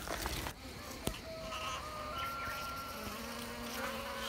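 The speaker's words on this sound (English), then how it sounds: "Honeybees are here." Honeybees buzz around dragon fruit flowers outdoors, a faint continuous hum with drifting tones, broken early by a couple of brief knocks.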